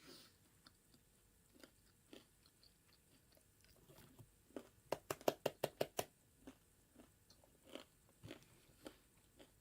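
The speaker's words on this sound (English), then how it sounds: "I'm so sorry if you can hear me chewing." Someone chews crunchy food close to the microphone, making soft bites and then a quick run of sharp crunching clicks in an otherwise quiet room.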